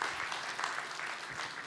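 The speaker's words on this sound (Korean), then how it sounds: "뜨거운 박수 한 번 더 하겠습니다" A church symposium audience claps warmly at a Korean congregation in Los Angeles, a dense, even burst of applause filling the short moment without voices.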